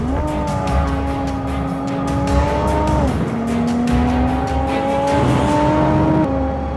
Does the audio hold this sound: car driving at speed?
yes